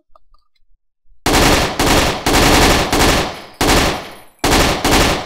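An M16-style assault rifle fires in the shooter game CrossFire. After a short quiet start come six loud, close bursts of rapid automatic fire, each ending in a short gap before the next.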